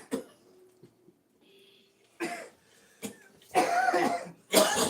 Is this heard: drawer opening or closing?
no